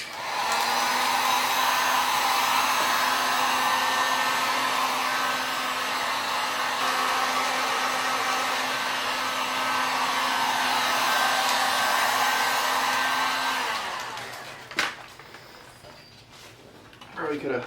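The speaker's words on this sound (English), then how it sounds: "thanks to the guy that decided to blow leaves right now while I'm making a video" A leaf blower runs nearby as a steady, loud whooshing roar that holds for about fourteen seconds, then cuts off, leaving a few knocks and faint background noise.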